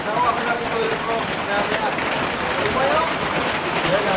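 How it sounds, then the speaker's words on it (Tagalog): Steady rain patters on a surface at a campsite in Norzagaray, Bulacan, Philippines, with a constant broadband hiss, while voices talk faintly underneath. "Narinig nyo, diba? Umuulan."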